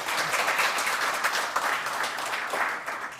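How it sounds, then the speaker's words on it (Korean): An audience at a defense-industry breakfast forum gives a big round of applause, dense and continuous clapping from a large room that stays loud and even from start to finish. "다시 한번 큰 박수 부탁드리겠습니다"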